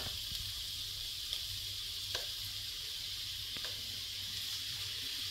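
Steady sizzling of meat frying in a hot pan, a constant hiss with a few faint clicks, fairly quiet, no talking.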